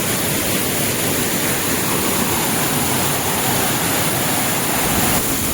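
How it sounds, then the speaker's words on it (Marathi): Steady, loud roar of the Machi waterfall, a continuous broadband rush of falling water close at hand with no pauses or voices. "वरती आल्यावर धबधबा पडतो"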